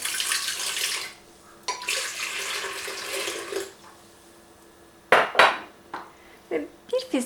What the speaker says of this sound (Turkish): 3 su bardağı ılık suyumu karıştırma kabına alıyorum